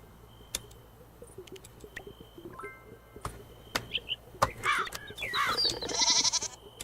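A pig goat farm animal in the Moonlight Peaks video game bleats in a few short, nasal bursts after scattered soft clicks and ticks, growing louder toward the end.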